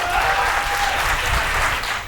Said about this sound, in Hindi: एक बार ढंग से बजाओ तालियां